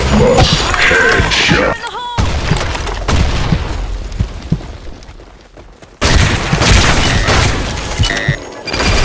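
Loud booming blasts and crashes fill a Blackshot gunfight. Several heavy explosions, including a grenade blast, cut in abruptly, with the noise dropping out between bursts.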